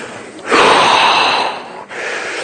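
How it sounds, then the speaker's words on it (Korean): Deep breath drawn in through the nose and let out through the mouth, a loud, close rushing inhale swelling into a long exhale, then a softer breath. "숨은 코로 들여 마시고 입으로 내쉬고"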